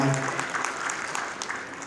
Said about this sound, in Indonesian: Sekali lagi tepuk tangan untuk para pemimpin dan juga